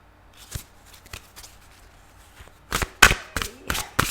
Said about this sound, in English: I'm going to start to shuffle the 14 cards